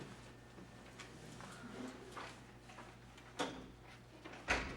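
A room door in a quiet study room is swung shut, landing as a single firm thud near the end, preceded by a faint earlier knock and soft shuffling against a low room hum.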